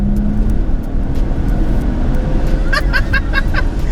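A Nissan Stagea M35 wagon's turbocharged V6 drones loudly and steadily close by, a rough rumbling roar that builds as the car accelerates, with road noise throughout.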